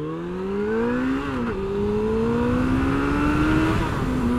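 A Suzuki Bandit 650 GSF motorcycle accelerating hard from 0 to 100 km/h, its engine note climbing steadily, dipping briefly at one gear change and then rising again, loud and close throughout.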